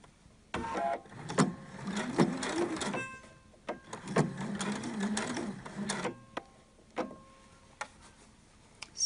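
A sewing machine stitches along the edge of a ribbon for a reusable gift bag, with bursts of fast mechanical whirring and ticking separated by pauses and small clicks.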